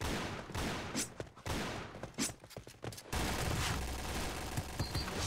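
Gunfire rattles through a match of the online shooter Point Blank, with bursts of automatic fire and single shots at varying distances, some sharp and near, others more muffled and farther off.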